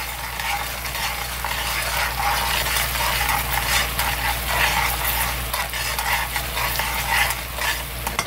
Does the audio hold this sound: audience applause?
no